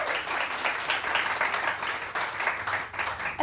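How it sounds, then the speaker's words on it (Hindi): A morning TV show's studio audience claps, steady dense applause lasting a few seconds at an even level. "तालियां तालियां, गो गो।"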